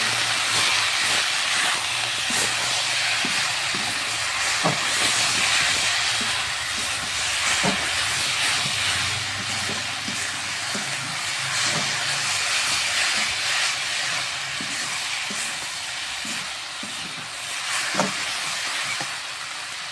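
Jute greens with onion fry in a hot pan, giving a steady broad hiss and sizzle with sharp crackles and pops throughout, close and continuous with no talking.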